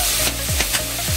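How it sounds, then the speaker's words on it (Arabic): Vegetables with thyme and spices stirred and seared in a pan without oil, a steady close sizzle broken by a few scraping strokes of the spoon, with no voices. "وغادي نقلبوها ونشحروها"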